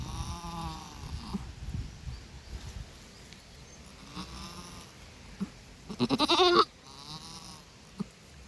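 A goat in labour gives one loud, drawn-out, quavering bleat close by, with faint rustling and low background noise before and after.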